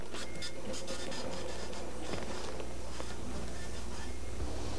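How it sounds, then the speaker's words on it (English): A warehouse printer at a videodisc manufacturing plant prints a shipping order, giving a continuous mechanical chatter and rattle over a constant background hum, with faint talk underneath. "the computer feeds the warehouse printer a complete shipping order"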